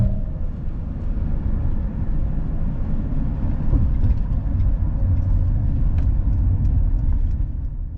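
A car cruising on the I-40 freeway heading east, with a steady, loud road rumble and engine drone throughout, plus occasional faint ticks and passing traffic noise, no talking.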